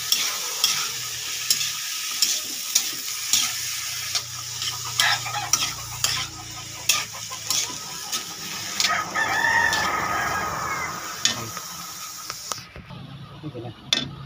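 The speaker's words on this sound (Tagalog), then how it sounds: "Haluin natin." Chayote and shrimp being stirred and sautéed in a pan for a Filipino ginisang sayote, a steady sizzle with scraping spoon strokes throughout and a rooster crowing in the background.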